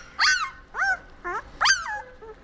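A week-and-a-half-old German shepherd puppy from a litter of eleven whimpers and yelps in four distinct, high-pitched cries, each rising and falling, close and clear against a quiet background.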